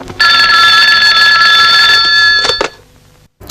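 A telephone bell rings loudly and close in one long continuous trill for over two seconds, then cuts off abruptly and is followed by a brief handling clatter, in an old 1980s Indonesian film scene.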